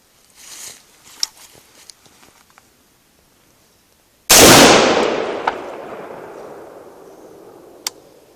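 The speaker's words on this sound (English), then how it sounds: "I'm going to hold the trigger down for a second after the round goes off" A single loud gunshot from a semi-automatic rifle cracks out after quiet rustling, its report decaying over several seconds with a faint click near the end.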